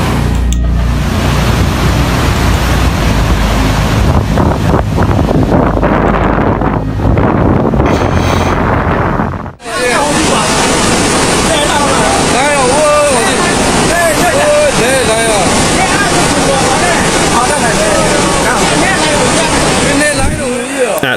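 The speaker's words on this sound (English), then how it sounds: "the Denison Dam spillway turned into a dangerous whirlpool" Floodwater roars through the overtopped Denison Dam spillway, a loud, continuous broadband rush with wind buffeting the microphone; after a brief dropout the churning water turns denser and harsher.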